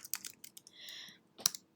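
Quick bursts of light clicking keystrokes on a computer keyboard, irregular and close, with a short pause before a final flurry of taps.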